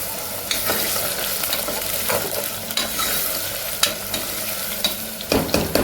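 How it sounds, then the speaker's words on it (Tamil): Washed pumpkin pieces drop into hot tempering with mustard seeds in a pan, setting off a loud, continuous sizzle with scattered sharp crackles and stirring scrapes up close. "இந்த சமயத்தில் கழுவி வச்சு பூசணிக்காய் நான் போட்டுடுறேன்."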